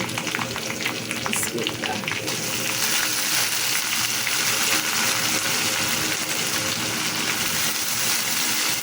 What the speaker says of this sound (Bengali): পেঁয়াজ রসুন ভাজা হয়ে গেছে, এখন দিয়ে দিচ্ছি ডাল।